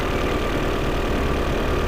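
A Peugeot 408 engine runs with an abnormal noise, a loud, close, steady mechanical drone with a dense, rough texture and no pauses.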